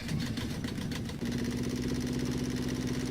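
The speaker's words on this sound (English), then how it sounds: "Hey, we got engine noise." A vehicle engine in the video game Landless turns over and catches, then settles into a steady, droning mid-pitched idle that runs continuously and loud.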